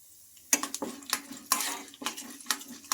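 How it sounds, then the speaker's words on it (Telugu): Chana dal and cumin seeds frying in hot oil in a kadai while being stirred, with repeated close scrapes and clinks of a spoon against the metal pan over a faint sizzle. "ఈ పప్పు కొంచెం బాగా ఫ్రై చేసుకోవాలి"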